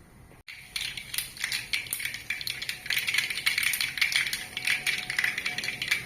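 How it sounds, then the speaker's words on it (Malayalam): Rapid crackling pops of mustard seeds spatter continuously over a hot-oil hiss, the sharp bursts growing denser toward the end. "കടുക് നന്നായിട്ട് പൊട്ടി വരുമ്പോൾ കഴിയുമ്പോൾ കടുക് പൊട്ടട്ടെ നന്നായിട്ട്"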